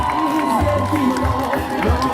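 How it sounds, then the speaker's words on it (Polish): Crowd cheering and clapping at an outdoor sports competition in Ryglice, with shouts and whoops from spectators, a loud, lively burst with voices mixed in. "Wielkie brawa!"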